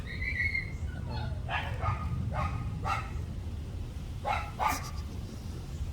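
Dogs bark in short bursts, several sharp barks spaced a second or so apart, at a moderate distance over a low background rumble.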